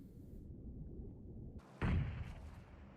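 A grenade blast from PUBG Mobile gameplay: a single sudden explosion bursts out after a quiet stretch and then rumbles away into a fading tail.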